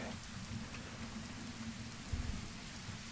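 Steady rain falls continuously during a wet spell, a dense even hiss of drops on surfaces with a low rumble underneath, heard alone with no talk.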